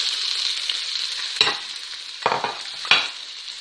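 Sliced onions dropped into hot oil with popping mustard seeds give a steady bright sizzle, broken by three sharp stirring scrapes of a spoon against the pan. No voices are heard.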